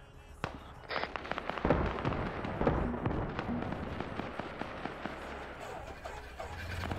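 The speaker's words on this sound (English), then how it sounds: "We're under heavy fire from a grenade launcher from some direction." Grenade launcher fire in an online military game at an airfield town, several sharp blasts and cracks at moderate distance over a busy rumbling battlefield bed, with faint voice chatter.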